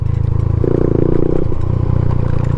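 Suzuki Raider motorcycle ridden over a rough remote trail, its engine a loud, close, pulsing drone that shifts pitch midway as it labors, alongside clattering rattles from the bumpy ground.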